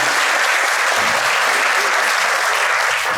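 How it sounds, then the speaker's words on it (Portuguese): Dense, steady audience applause for a professor at an academic panel on creative economy policy, a continuous wash of many hands clapping without a break. "gostaria aqui uma menção aqui também de aplausos, por gentileza, à nossa madrinha"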